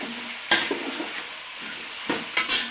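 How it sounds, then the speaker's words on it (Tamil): Onions sautéing in a pan for Vellore-style chicken biryani made with seeraga samba rice: a steady close sizzle with occasional scrapes and stirring knocks against the pan, and no talk. "வெங்காயம் நல்லா ப்ரௌனாக வதங்கணுங்க"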